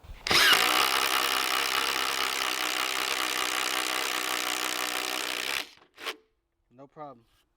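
A Ridgid subcompact power drill with a 1 inch paddle bit bores through a 2x6, a loud steady whine for about five seconds that cuts off abruptly, followed by a brief clunk and a short spoken remark.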